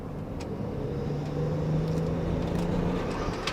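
A BMW X5 engine idles steadily, its drone rising in a slow surge and then sagging back down, heard up close and alone with no talk over it.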